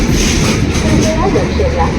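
The Pushpak Express, 12534 from Mumbai CSMT to Lucknow, rolls into an Indian railway station, a loud, dense rumble of train noise with a murmur of platform voices beneath.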